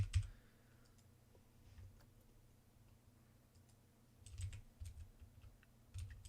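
Scattered computer keyboard keystrokes, quick clustered clicks in short bursts separated by quiet gaps, close and faint, no talk.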